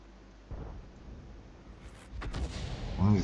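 Object 261 self-propelled artillery gun firing in a video game: a deep booming report followed by crackling blasts and a swelling low rumble that grows louder toward the end, with no talk.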